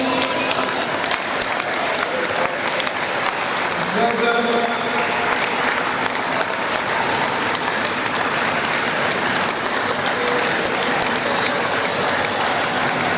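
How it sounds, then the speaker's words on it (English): Long stretch of steady crowd clapping in a sports hall at a wheelchair rugby cup final, dense and even throughout, with an announcer briefly speaking over it on a public address. "Keep the applause going, please."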